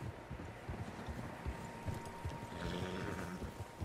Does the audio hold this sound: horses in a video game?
yes